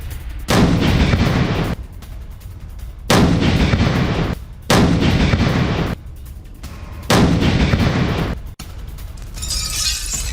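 Heavy artillery and gunfire strike a Russian position at Kupiansk in the Russia–Ukraine war, four loud sustained blasts of roughly a second each separated by short gaps, ending in a fainter crackling burst.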